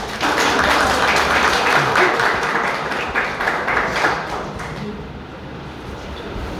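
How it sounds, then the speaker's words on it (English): A seminar audience gives a footballer from Churchill Brothers FC Goa a warm welcome, clapping loudly and densely at first, then gradually thinning and fading toward the end. "Let's welcome him with a big round of applause"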